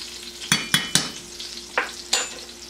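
Salmon frying in oil and butter in a pan, a steady quiet sizzle broken by five or six crisp scrapes and taps of a utensil against the pan, heard close up with no talk.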